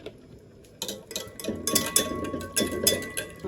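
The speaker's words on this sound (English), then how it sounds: "I will stir the two to combine very well" Butter and milk being stirred together in a cooking pot while homemade cooking cream is made, giving scattered metallic clinks and scraping taps of a utensil against the pot, growing busier after a quiet start.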